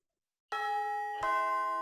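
Two-tone electronic doorbell chime ringing twice, each bright ding-dong starting sharply after a moment of silence and ringing on with clean sustained tones, close and clear.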